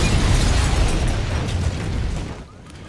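Loud, dense blast from a tripwire bomb in an action scene, a sustained roaring rumble that holds for over two seconds before dropping off into quieter rumbling.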